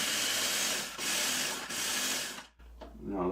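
Electric food chopper whirring loudly in bursts, two brief dips in pitch before it cuts off, then a short quieter rattle as it starts again.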